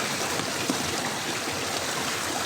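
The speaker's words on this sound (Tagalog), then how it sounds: "Baybayin ko lang tong sapa na to." A mountain stream flows steadily nearby, a continuous gentle rushing and trickling of water with no voices over it.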